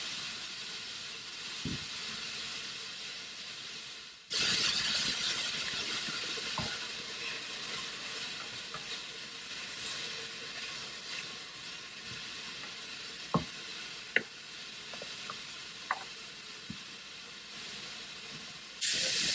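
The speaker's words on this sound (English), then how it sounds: "our vegetable broth is boiling" A pot of vegetable broth bubbling on the stove gives a steady, close hiss and simmer, with a sudden jump in loudness partway through and a few scattered clinks over the constant bubbling.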